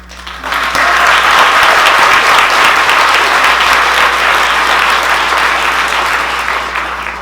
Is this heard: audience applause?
yes